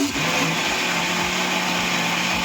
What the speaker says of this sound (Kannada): ಹಂಗಾಗಿ ಸೊ ಇದನ್ನ ಮತ್ತೆ ಮಿಕ್ಸಿಯನ್ನ ಮಾಡ್ಕೊಳ್ಳೋಣ.